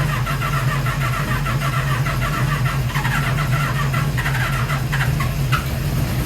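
A 1978 Suzuki GS750 motorcycle engine that had sat abandoned cranks and runs roughly, a loud steady mechanical chug with a few sharper bursts near the end.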